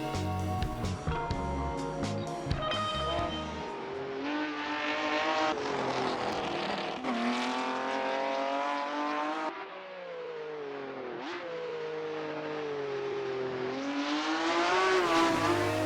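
A 1966 Ferrari 330 P3 racing engine with Berlinetta roof, in a video game, roars loud and near, climbing through the revs, dropping on each upshift and building again over sixteen seconds.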